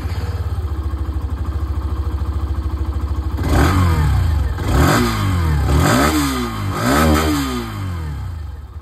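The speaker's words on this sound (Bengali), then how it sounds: "দুটো বাইকের যে এক্সস্ট সাউন্ড সেটা শুনিয়ে দিয়ে স্টার্ট করি এখানে উইথ এক্সট্রিম 125 আর" A Hero Xtreme 125R motorcycle idles with a steady, close exhaust putter, then is blipped through several quick revs that rise and fall in a rhythmic series.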